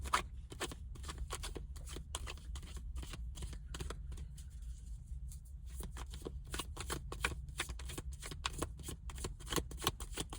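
Tarot cards shuffled by hand in quick riffling bursts, the crisp flutter of card edges repeating steadily and close by, with a short lull midway before the rapid shuffling resumes.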